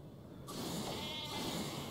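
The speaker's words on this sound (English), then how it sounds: "come on, sheep, explode! Explode!" A sheep weapon in the Worms Revolution video game bleats loudly and continuously after a short quiet start, with no talking over it.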